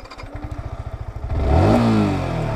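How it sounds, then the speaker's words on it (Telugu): A Yamaha R15M motorcycle engine turns over with a rapid rhythmic starter chug, then catches and revs up to a loud roar before settling into a steady, throaty idle. "So let start the bike."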